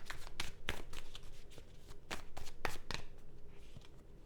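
A new tarot card deck being shuffled by hand, close riffling and flicking of cards in irregular bursts with soft slaps between them, no talking over it.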